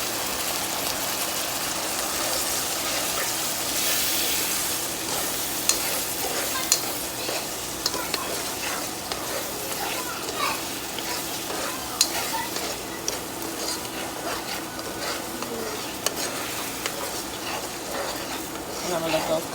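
Beef tips and onions simmering in beef broth in a pan, a steady bubbling sizzle with occasional stirring clicks running throughout, close and moderately loud.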